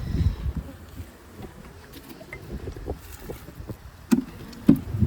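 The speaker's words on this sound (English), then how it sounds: "That wind is coming in, that is for sure." Gusty wind buffets outdoors beside a beehive, a broadband low rumble rising and falling with a few sharp gust peaks near the end, fairly close and moderately loud with no talking.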